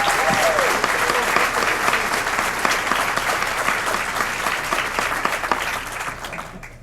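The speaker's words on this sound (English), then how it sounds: "Please join me in a round of applause to thank all of the candidates" An audience at an all-candidates forum in Revelstoke claps in a full round of applause that holds steady and then tapers off at the end.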